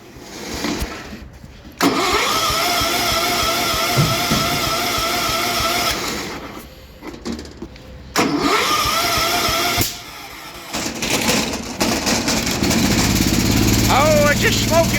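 A cold 1974 Cub Cadet 1650 International Harvester garden tractor cranks in several hard, sputtering bursts separated by pauses, then catches and keeps running roughly, with people talking nearby.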